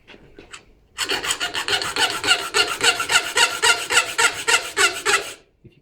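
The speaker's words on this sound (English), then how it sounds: "We're going to use the half round file to create this rounded or half rounded section" A half round file rasping across metal clamped too far out in a vise, loud rhythmic strokes running steadily for several seconds after a few faint taps, with a harsh, screechy edge.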